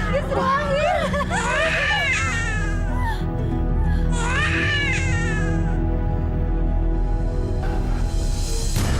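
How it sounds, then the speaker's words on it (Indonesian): A newborn baby cries in wavering, wailing bursts, loud and close, over a constant low hum in a scene from an Indonesian legend drama. "Saya seperti mendengar suara tangisan."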